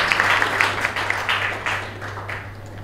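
An audience applauds at an inauguration event, a steady patter of clapping hands with a few louder claps, fading slightly over a few seconds.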